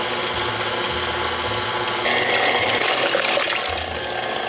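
A stand mixer with a whisk attachment churning squash, a steady mechanical whir with a wet, rattling churn that grows louder and brighter midway as the speed rises, then eases back.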